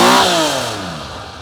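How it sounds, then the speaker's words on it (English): A 1983 Honda CBX 1000 Pro Link six-cylinder motorcycle revs loud and close at the exhaust, the engine note falling away smoothly from a high peak. "Sounds amazing, very iconic sound, those 6 cylinders."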